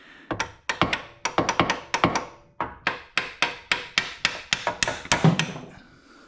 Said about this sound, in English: Small hammer in there.